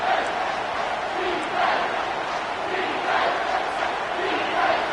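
Dense, steady roar of a football stadium crowd cheering during a goal-to-go defensive stand, loud and continuous with rolling surges of noise and no clear single voices.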